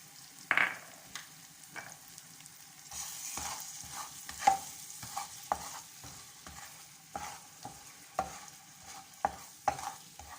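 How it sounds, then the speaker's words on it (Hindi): Masala fries in a pan while a spoon stirs it, giving a quiet sizzle broken by repeated scraping and tapping strokes at an uneven rhythm, with no voices. "मसाला जो है वो रेडी हो गया है और हम इसको थोड़ी देर भून लेते हैं"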